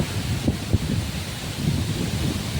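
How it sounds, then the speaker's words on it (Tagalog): Strong wind at Karakawa Falls in the mountains near Nasugbu roars and buffets the microphone in rumbling gusts, with rustling leaves mixed into the constant rush. "dumatagundong yung hangin, no? Naririnig nyo ba?"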